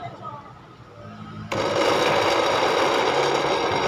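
An electric grinder switches on abruptly to blend satay spice paste for goat satay, then runs with a loud, steady whirring drone. Quiet talk comes just before it starts.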